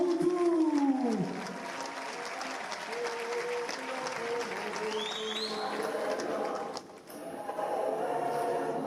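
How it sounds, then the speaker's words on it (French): A large audience gives sustained thunderous applause at a formal public event honouring a dignitary, with voices calling out within the crowd noise throughout. "Je vous demande de faire un tonnerre d'applaudissements pour le maréchal Mobutu."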